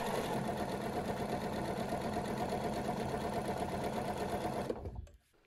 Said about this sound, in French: Je viens donc ensuite surpiquer la valeur de couture au point zigzag ou à la double aiguille tout du long de la fente